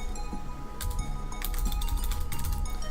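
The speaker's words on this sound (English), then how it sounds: "I'm going to go in the console and type bind h chat.say" Quick clicking keystrokes on a computer keyboard as a console command is entered in the game Rust, irregular taps close up with a few denser bursts over a low background hum.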